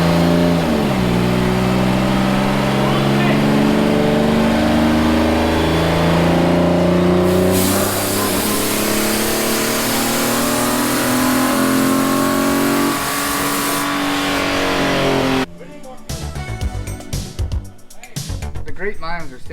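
A V6 Dodge Challenger engine on a dyno, fed nitrous, revs hard and loud for a sustained stretch, its pitch climbing and holding before cutting off abruptly into clattering noise.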